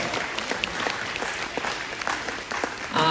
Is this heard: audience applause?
yes